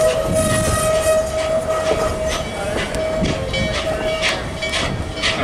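A passenger train slows down, its steady loud rumble of wheels and carriages continuing throughout, with a sustained whistle-like tone running beneath and faint rhythmic clatter.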